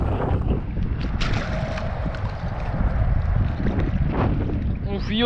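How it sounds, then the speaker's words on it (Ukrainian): Strong, steady wind buffets the microphone in a low continuous roar on the Dniester River, with water and fishing-boat noise underneath. "я зараз розвернусь камерою на вітер"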